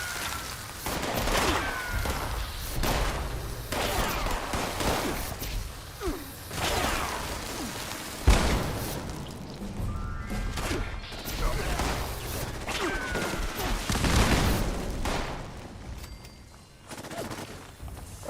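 An artillery strike and gunfire in the video game Fallout 76: loud, repeated explosive booms and bursts of shots rumble through most of the stretch, with crashing impacts and no clear talk.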